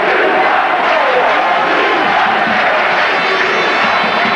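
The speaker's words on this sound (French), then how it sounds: "Olivier Olibo à la place de Jérôme Pradal qui sort sous les acclamations avec le sourire" A packed rugby stadium crowd at a 1998 USAP versus Castres match roars and cheers as a player leaves the field, a dense, loud, sustained wall of applause and shouting with no break.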